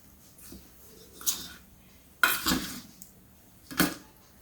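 Spoon clinking and scraping against a metal bowl while spices with salt are mixed for crispy alu vadi, three or four short bright scrapes and taps, close and moderately loud with quiet gaps between.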